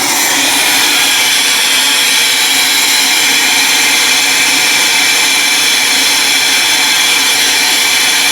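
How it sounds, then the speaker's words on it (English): Vacuum on a John Deere MaxEmerge planter row unit with AccuCount seed sensor runs as a loud, steady broadband whir with a high hiss, constant throughout with no talking. "And I'll just turn the vacuum off so we can talk a little bit."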